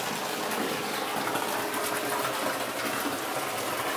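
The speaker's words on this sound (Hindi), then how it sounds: "तो ये पानी जो आ रहा है ये देविका नदी का है।" The Devika river's water gushes steadily at the start of Gupt Ganga near Chenani, Udhampur, a loud, close, continuous rushing hiss with no voices.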